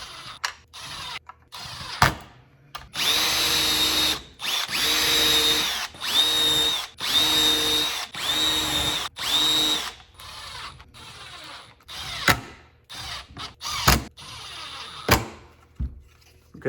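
A Milwaukee power drill drives screws in to mount battery brackets on a PACKOUT storage rig. Several whirring bursts of one to two seconds each come up close, and sharp clicks and knocks from handling sit between them.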